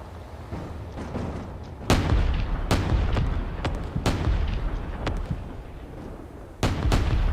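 Artillery in the Space Engineers game firing repeatedly, heavy booming shots at irregular intervals over a rumbling low backdrop, several loud sharp blasts spaced a second or so apart.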